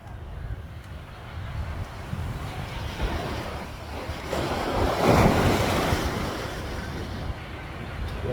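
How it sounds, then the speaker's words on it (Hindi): Arabian Sea waves surge and crash onto a golden sand beach at Poovar Island, Kerala, a steady roar that swells into a louder break midway, with wind buffeting the microphone. "थोड़ा आपको समुद्र की लहरें दिखा देते हैं।"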